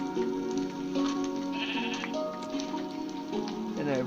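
Sheep in a video game world bleat repeatedly in wavering calls, overlapping one another against a soft rain-like ambient hiss, with a voice talking faintly at times.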